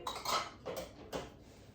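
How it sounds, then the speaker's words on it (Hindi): Dishes, pots and cutlery being checked for dryness and put away in a home kitchen, three distinct clattering clinks of metal and crockery spaced apart, close and clear, with no talk. "मैं देखती हूँ कि बर्तन ड्राई हैं कि मुझे ड्राई करने पड़ेंगे"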